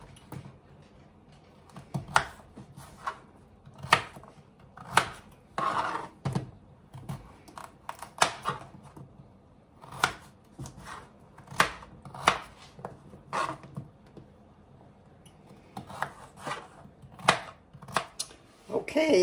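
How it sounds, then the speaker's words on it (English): Russet potatoes being chopped into small pieces with a knife on a cutting board, a steady run of close, sharp chopping knocks with brief pauses, no talking. "you're just going to chop these into small pieces"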